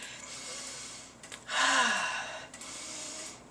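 One slow, deep inhale as part of a calming breathing exercise, rising clearly above quiet room tone with softer breaths around it.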